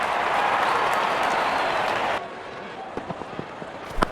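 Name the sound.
cricket crowd applauding a batsman's fifty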